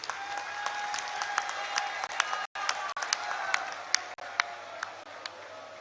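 A crowd at a political rally addressed by Punjab Chief Minister Bhagwant Mann claps steadily, with distinct sharp claps and faint cheering over a continuous wash of applause and a brief dropout midway.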